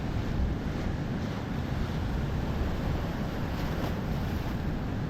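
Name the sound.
heavy swell, rough sea waves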